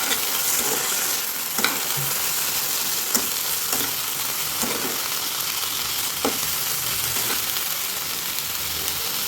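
Mixed vegetables sizzle and fry in a pan with a little tomato and soy sauce for biryani, a steady hiss with spoon scrapes and clinks at intervals throughout.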